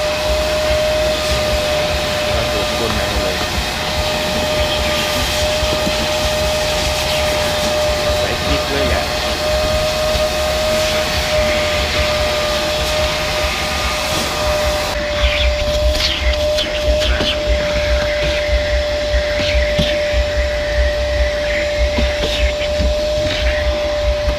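A car wash vacuum cleaner runs continuously with a loud, steady whine and airy roar, holding an unbroken tone throughout.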